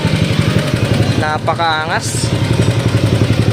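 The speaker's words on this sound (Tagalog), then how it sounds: "Nakakarga pa yung makina." A Yamaha X1R Limited Edition motorcycle engine runs with a steady, rapid, throbbing pulse throughout, close and fairly loud, while someone speaks briefly over it.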